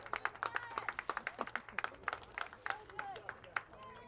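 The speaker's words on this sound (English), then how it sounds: "Again, a well-deserved round of applause" Scattered crowd clapping at a high school boys' soccer game as a substituted player leaves the field, a sparse string of individual claps under a commentator's voice.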